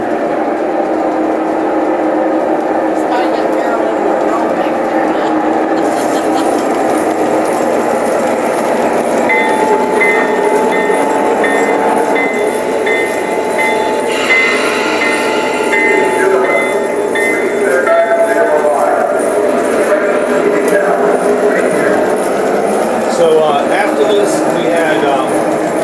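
A model streamliner passenger train runs along a USA train-history layout with a continuous rolling rumble and rhythmic clickety-clack of wheels on track, heard close throughout while a person talks over it.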